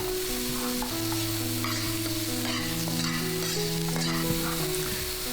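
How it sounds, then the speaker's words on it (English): Shallot, garlic and carrot stir-frying in a pan for shrimp fried rice, a loud steady sizzle with scraping stirs throughout, no talking. "first we're gonna cook some shallot and some garlic and get the nice aromatics going"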